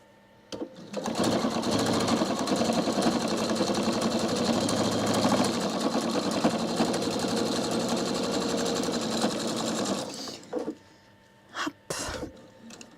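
Close by, a Pfaff Quilt Expression 720 sewing machine stitches patchwork squares together, whirring in one long continuous run for about nine seconds before stopping, followed by a few brief handling noises.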